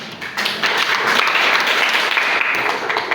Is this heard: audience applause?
yes